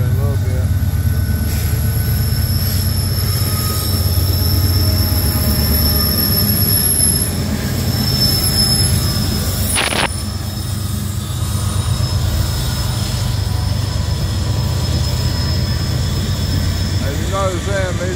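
A train rolling past on railroad track, a continuous loud low rumble with high metallic wheel squeal and ringing tones above it, a sharp clank near the middle, steady throughout.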